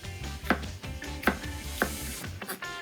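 A knife cuts a green bell pepper into chunks on a cutting board, giving three sharp, evenly spaced chops close by over a low background kitchen hum.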